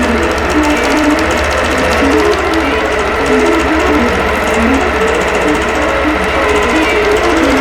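A computerized quilting sewing machine stitching a row on a batik pumpkin patch applique panel, running as a loud, steady mechanical whir with a fast, continuous needle rhythm throughout.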